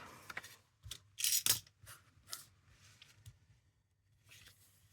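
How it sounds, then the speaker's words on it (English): A craft knife slicing through 6x6 craft paper: several short, crisp scraping cuts close by, with quieter rustling between them and a brief pause near the end. "I use my knife. You can use your scissors if you want to"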